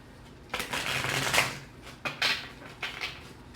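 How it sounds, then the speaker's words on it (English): Oracle cards being shuffled by hand in a short tarot-style reading, several quick riffling bursts with brief pauses between them, close and fairly quiet, with no talking. "2 more shuffles."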